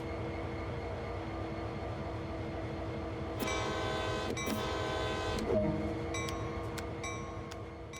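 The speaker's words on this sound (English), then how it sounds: "So now we need to drive onto the turntable." AC4400CW diesel locomotive in Train Sim World 2 rolling slowly with a low engine rumble, then sounding a loud multi-tone horn for about two seconds followed by a few short metallic clanks.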